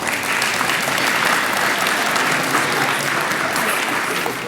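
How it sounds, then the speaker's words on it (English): Steady audience applause at a high school career exploration event, close and fairly loud, holding evenly for several seconds as the crowd claps for the guest speakers. "Please give our speakers a round of applause."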